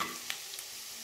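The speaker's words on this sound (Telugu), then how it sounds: "సో దీంట్లో ఫస్ట్ గార్లిక్ ని వేస్తున్నాను" Garlic frying in melted butter for garlic shrimp, a steady close hiss of sizzling fat with a couple of faint ticks from a stirring utensil.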